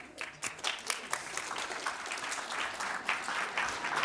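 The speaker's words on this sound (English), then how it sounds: "Can we just get another round of applause?" Steady applause from a conference audience at an MIT Media Lab event, dense broadband clapping of moderate loudness that holds evenly for about four seconds with no talk over it.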